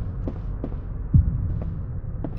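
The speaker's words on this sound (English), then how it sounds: "The heartbeats continue." A heartbeat in a frog-themed horror video game: slow, dull low thumps repeating over a steady hum, with one heavier thud near the middle.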